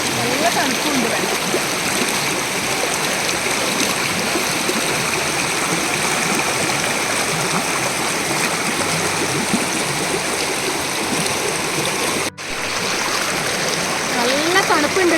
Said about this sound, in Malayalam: വെള്ളത്തിൻ്റെ ഈ ഒരു സൗണ്ട് കാരണം പറയുന്നത് ചിലപ്പോൾ ക്ലിയർ ആവുന്നുണ്ടാവില്ലായിരിക്കും